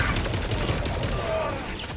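Dense, continuous automatic gunfire in the Helldivers video game, a steady rattling barrage filling the whole moment with no clear pauses.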